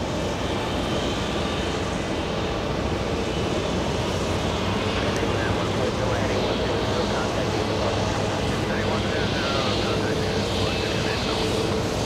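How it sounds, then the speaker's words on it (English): An SAS airliner bound for Copenhagen roars steadily on takeoff at JFK Airport, a broad, sustained engine rumble with a faint whine that holds loud throughout. "SAS taking off."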